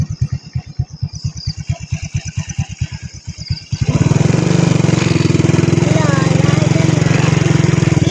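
Motorcycle engine in a rural farm setting, first chugging at a rapid idle with distinct pulses, then revving up to a loud, steady roar close by as voices talk over it.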